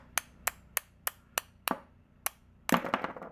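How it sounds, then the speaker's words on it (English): A small ball peen hammer strikes a knife tang in sharp, evenly spaced metallic taps, seven clear blows followed by a heavier cluster of hits, close and alone without speech. "Let's go to a little ball peen."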